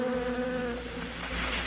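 Bees from about a hundred hives buzzing: a steady, close, droning hum with a clear tonal whine, heard alone and without talk.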